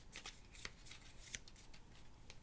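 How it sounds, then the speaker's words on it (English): Two Avalon game cards are shuffled by hand at a tabletop game night, giving a close, crisp run of papery riffles and slaps in quick uneven bursts. "Whoever's being ladied shuffles these 2 cards"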